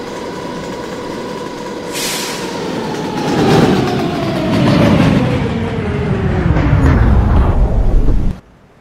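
A New York subway D train, an R160B car bound for Coney Island, runs loud and close with a rising motor whine, a rumbling roar and clattering wheels before the sound cuts off abruptly.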